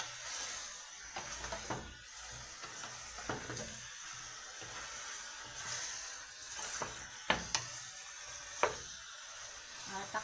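Pork sizzling in a pan with garlic and onion, a steady soft hiss of frying broken by scraping clicks and clinks as the meat is stirred, fairly quiet and close.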